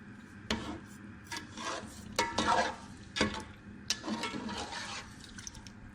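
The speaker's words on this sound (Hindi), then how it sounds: "अब इसमें 2 से 3 चम्मच तेल डालते हैं।" Stirring in a pan as oil goes in for carrot halwa, with irregular scraping and rubbing strokes and some faint frying, close by and with no one speaking.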